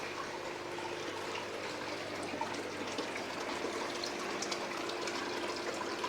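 Koi pond filter pumps keep water moving in a steady, continuous rush with a low hum beneath, close and unbroken throughout.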